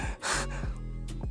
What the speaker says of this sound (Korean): 아침부터 밥상머리 앞에서 더럽게 왜 숨을 헐떡거려